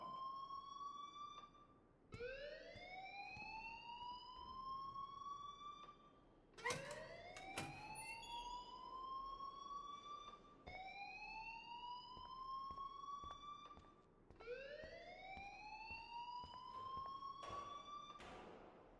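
In the video game Life is Strange, an electronic alarm wails in repeated rising sweeps, each climbing and holding before restarting. It runs steadily and alone for the whole stretch, fairly faint, with a few sharp clicks between cycles.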